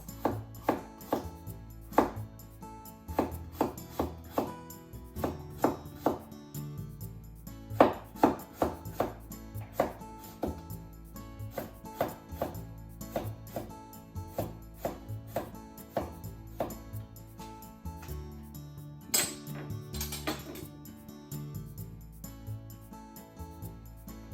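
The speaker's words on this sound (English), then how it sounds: "Cucumber first. Cut both ends off. And make thin diagonal slices." A knife cuts a cucumber into thin diagonal slices on a cutting board, crisp rhythmic chopping taps in quick runs with short pauses, close and clear, with a brief clink of a dish near the end.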